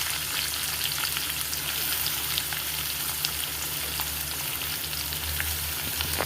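Chopped onion fries in hot oil with cumin and green chillies for a dry paneer dish, giving a steady, dense sizzle that stays close and even throughout, with faint stirring underneath.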